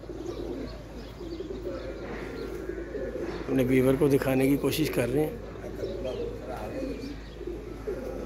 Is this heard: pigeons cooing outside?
yes